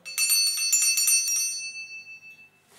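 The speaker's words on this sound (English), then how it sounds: "a bell" A small bell for a children's musical memory game rings in a quick series of bright strikes for over a second, then its clear tone fades out alone.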